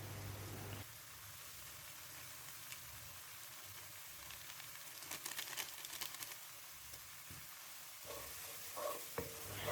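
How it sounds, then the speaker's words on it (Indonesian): Nasi minyak rice, Palembang style and dusted with curry powder, is stirred in a pan: a faint, quiet sizzle with a cluster of soft scraping stir strokes near the middle and again at the end, no talking. "Kemudian kita aduk-aduk lagi sampai benar-benar matang."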